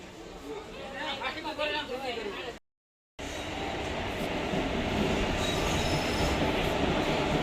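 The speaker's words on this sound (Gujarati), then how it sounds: "ટ્રેન આવી ગઈ જો અમારી જો" Train noise under a murmur of voices, then after a brief silent gap a loud steady rumble and wheel squeal as a train rolls into the station.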